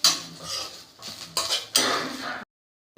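Moringa leaves frying and being stirred in a pan, with a steady close scraping and clinking of a metal utensil against the pan in several bursts before a sudden stop.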